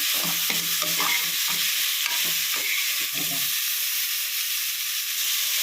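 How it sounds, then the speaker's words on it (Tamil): Vegetables for paneer fried rice sauté over low heat, giving a steady, close hiss of frying with a few soft scraping stirs near the start and no voices. "இது ரொம்ப ஹையில் வச்சு வதக்கணும் இல்லை, ஒரு சிம்மில் வச்சு நல்லா காய் வதங்கினாலே போதும்"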